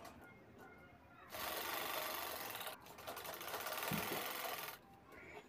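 An electric sewing machine stitches a line along a marking on fabric for a designer handbag, running in two bursts of rapid, even whirring at close range, separated by a short pause, with quiet room sound before and after.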